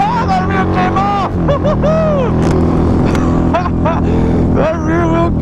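A Harley-Davidson V-Rod motorcycle revs hard and accelerates up close, its engine note swooping up and down through several pulls, loud throughout.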